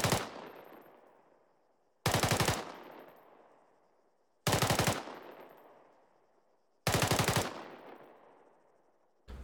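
An M4 rifle fires full auto at cyclic rate in four short, sharp bursts spaced about two seconds apart, each burst a rapid rattle of shots followed by a decaying echo, with no talking.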